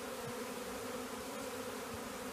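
A large honeybee swarm settling around a box hums in a steady, dense drone, a continuous close buzz with no talk over it.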